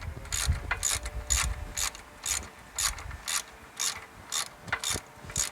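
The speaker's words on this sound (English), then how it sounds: "just bringing the nut up, ready for tightening" Ratcheting on a wheel hub nut of a Mitsubishi 3000GT, a steady run of about a dozen evenly spaced clicks, close and fairly quiet, with no talk.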